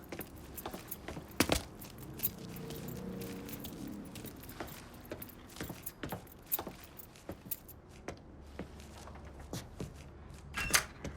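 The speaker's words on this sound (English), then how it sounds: "Lincoln, pick up the keys." Keys jangle and clink in scattered bursts throughout a scene in the Mafia 3 video game, with a faint vehicle engine and a door sound in the background, quiet overall.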